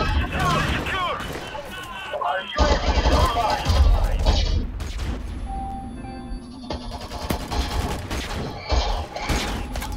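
Gunfire and impacts in a first-person shooter game, with loud crashing bursts and booms scattered over the stretch, mixed with a player talking.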